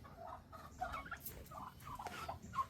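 Turkeys and chickens kept together in a backyard coop give soft, scattered clucks and gobbling calls, faint and close, with no one speaking.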